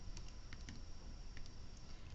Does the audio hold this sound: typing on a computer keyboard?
yes